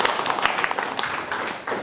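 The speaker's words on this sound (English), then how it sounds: "Please let us give good claps to these two gentlemen." A studio audience at Caritas Nepal in Damak clapping to welcome two guests, steady close applause with irregular hand claps for a couple of seconds.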